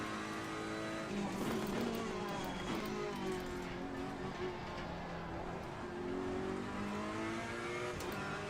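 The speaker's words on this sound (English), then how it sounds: "So Mitchell is my next target in the Lamborghini" Lamborghini race car engine in the Assetto Corsa Competizione racing game at Kyalami, a continuous high revving roar rising and falling through gear changes, with other cars audible around it.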